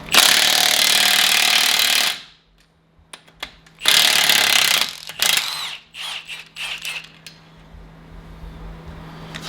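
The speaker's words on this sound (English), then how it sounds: "So we're gonna go ahead and remove this axle nut." An impact wrench hammering loose the axle nut on an MK8 Volkswagen GTI during a lowering spring install, in loud close bursts: a two-second rattle, a pause, another long burst, then several short stuttering hits.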